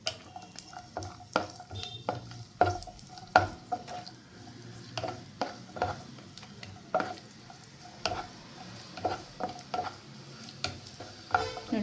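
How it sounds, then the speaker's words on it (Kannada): Cashews and raisins frying in ghee in a pan, with a steady stream of spoon scrapes and clinks against the metal over a low, soft sizzle, close by and without any talking. "ಆಮೇಲೆ ನಾವು ಗೋಡಂಬಿ ಮತ್ತು ದ್ರಾಕ್ಷಿ ಎಲ್ಲ ಫ್ರೈ ಮಾಡ್ಕೊಳ್ಳೋಣ"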